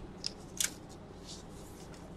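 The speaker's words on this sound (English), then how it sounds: "I like my little scissors" Small craft scissors snip twice in quick succession while a mini album is being finished, with crisp, close, fairly quiet cuts over a soft room background.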